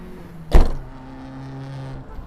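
Retractable tow bar on a 2017 Skoda Superb folding away: one sharp mechanical clunk near the start, followed by a low electric motor hum that runs steadily to the end.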